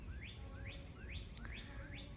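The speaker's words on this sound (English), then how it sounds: "I apologize if the birds are annoying" Birds chirp outdoors beside a driveway work area, a repeated rising tweet sounding about five times in a steady rhythm over low background rumble, fairly close and clear.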